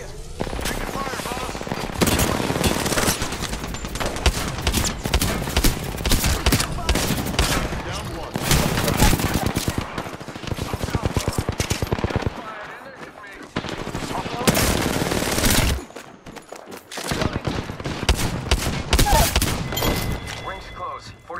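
Rapid automatic gunfire from the Apex Legends video game rattles in dense, loud bursts with short gaps between volleys, mixed with heavy impacts and some voice chatter.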